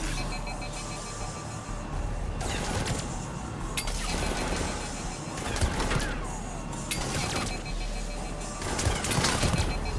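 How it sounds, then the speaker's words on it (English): Bursts of rapid gunfire crackle repeatedly over a dense, rumbling backdrop of action in Mass Effect 3, with sharp impacts and metallic clinks between volleys. "Reports are coming in of gunfire on the Silver Sun Strip."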